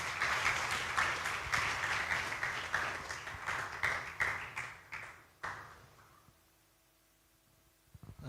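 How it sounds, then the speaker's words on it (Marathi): A church congregation applauds a testimony with dense, lively clapping for about five seconds. The clapping then thins out and dies away into near silence, with a few stray taps at the end. "या साक्षीसाठी आपण जोरदार टाळ्या वाजूया"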